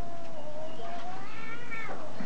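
A kitten gives a long, wavering meow, then a shorter cry, while a monkey grabs it; the calls are close and clear with little else around.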